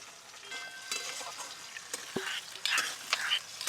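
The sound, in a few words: stirring and frying onions with sauces in a pan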